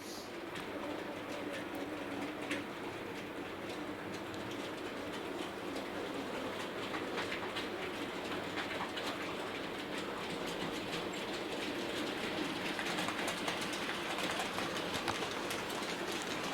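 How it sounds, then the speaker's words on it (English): Steady rolling rumble with clickety-clack rail noise from a Heljan Class 54 "Falcon" D0280 model locomotive hauling a coal train around a model railway layout, continuous and fairly constant in level, no talking. "you should just be able to see the loco pulling the coal train behind the back of the layouts"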